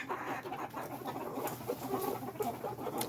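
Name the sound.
chickens clucking in backyard flock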